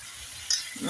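Onion and meat fry in a pot for Uzbek pilaf, a brief steady sizzle with a light metallic stir.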